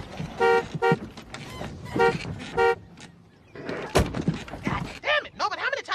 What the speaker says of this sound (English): when I inhale, my titty make the horn honk